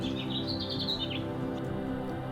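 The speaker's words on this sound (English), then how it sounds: "most of what you hear are birds and wind through the trees" Birds chirp outdoors in a quiet residential area among trees, giving a cluster of quick high tweets over a low steady background hum, moderately close.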